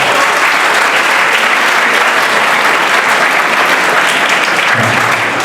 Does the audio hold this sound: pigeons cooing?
no